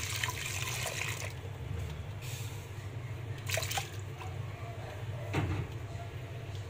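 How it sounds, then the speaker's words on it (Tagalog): Water poured into a pot of taro simmering in coconut milk for a sweet snack, with splashing and trickling bursts over a steady low cooking hum. "Lagyan po natin ng kunting tubig yan."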